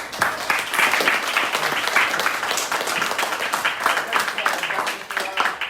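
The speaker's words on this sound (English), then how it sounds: "So please give a big round of applause for Mr." An audience at a Philadelphia awareness event mixer gives a sustained round of applause, with crisp close claps and mixed voices cheering under the clapping.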